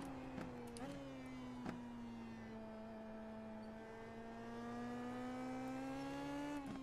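Indy Pro 2000 race car in the iRacing sim, its engine a steady, close drone with strong harmonics. The pitch dips briefly near the start, then climbs gradually toward the end, with no talk over it.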